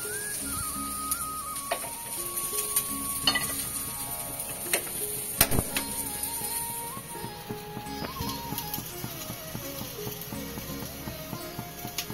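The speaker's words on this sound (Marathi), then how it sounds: "आपला कांदा ना इथे छान परतून होतोय" Onions sautéing in a pan for a Maharashtrian mixed vegetable masala (bhogichi bhaji), a steady soft sizzle with occasional scraping stirs, under a melodic music bed.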